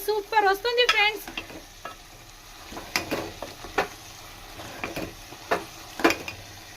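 Onions, tomatoes and masala frying in a pan for Rayalaseema ragi sangati chicken curry, soft sizzle under repeated sharp ladle scrapes and taps against the pan, an early burst of clinking, close and fairly quiet.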